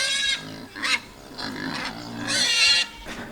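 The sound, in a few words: distressed goats calling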